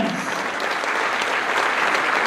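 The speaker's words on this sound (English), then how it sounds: "round of applause" A crowd claps continuously, a dense, even wash of applause throughout.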